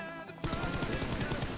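After a brief quiet start, rapid automatic gunfire in the video game New World bursts in and keeps rattling loudly and steadily to the end.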